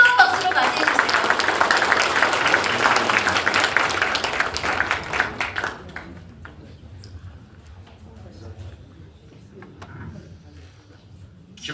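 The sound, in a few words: audience applause welcoming a speaker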